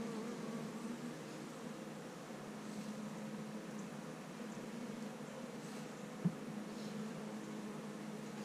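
Honeybees drone in an open hive during an inspection and feeding, a steady low buzz close by and fairly quiet, with one brief knock partway through.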